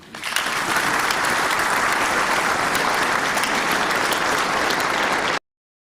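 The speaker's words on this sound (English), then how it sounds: "Let's offer a round of applause." A hall full of conference delegates at the Munich Security Conference breaks into steady, loud applause that holds evenly before cutting off abruptly near the end.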